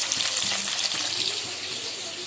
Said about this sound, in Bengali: আর এখানে হচ্ছে মাছ ভাজা